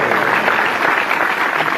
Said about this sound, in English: give a big round of applause for a special guest